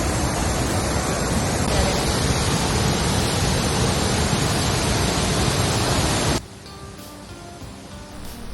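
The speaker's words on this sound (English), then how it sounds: "the most famous one is this Shifen Waterfall." Shifen Waterfall in Taiwan, swollen after recent rain, gives a dense, loud, unbroken rushing roar that cuts off abruptly near the end, leaving a much quieter background.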